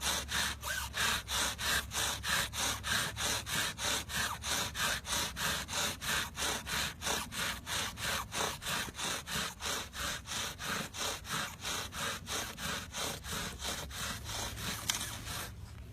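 A wooden bow drill spindle, improvised from pocket items, rubs against a wooden board in slow, even back-and-forth strokes, a close, loud rasping rhythm of roughly two strokes per second.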